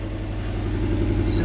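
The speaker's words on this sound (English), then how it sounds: "Subaru noises." A Subaru boxer engine idles with a steady low, throbbing rumble close to the listener, running evenly for a moment with no other sounds on top.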